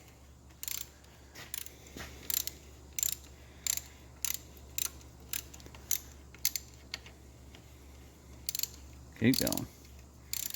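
A socket ratchet working loose a bolt on the engine of a 1993 pickup, with repeated short bursts of clicking at a steady rhythm, close by, and a brief voice speaking.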